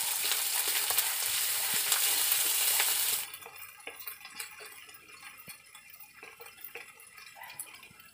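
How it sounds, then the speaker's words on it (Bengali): Katla fish frying in oil with fennel paste added, a loud steady sizzle that drops sharply after about three seconds to a quieter crackle with scattered stirring scrapes. "মৌরি বেটে রেখেছিলাম সে মৌরি বাটাও দিয়ে দিলাম, এরপর বেশ কিছুক্ষণ নাড়াচাড়া করব।"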